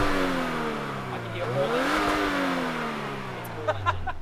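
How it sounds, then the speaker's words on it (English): Exhaust of a Nissan Silvia S15 with a built SR20 turbo engine, a low burbling idle that swells and dips in pitch through a brief rev, heard close with faint talk near the end. "It's got a nice burble"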